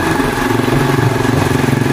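A small family motorcycle carries several riders through cool village countryside past rice paddies, its engine giving a steady, loud, close putter with a continuous rhythmic chug and no voices over it.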